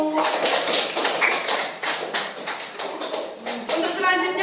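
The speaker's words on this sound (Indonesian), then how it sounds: "beri tepuk apresiasi untuk kelompok 1" Indonesian classroom students giving a round of appreciative applause for the first group, steady dense clapping for several seconds, loud and close, with a voice starting to speak at the very end.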